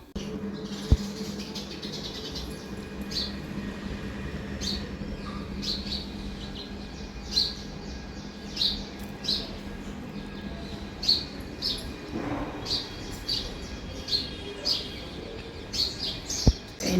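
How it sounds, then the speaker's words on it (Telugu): Several birds chirp in a tree during a quiet morning, short bright tweets scattered irregularly over a low steady background hum, moderately near and fairly faint, with no talking. "పక్షుల కిలకిలలు చూడండి."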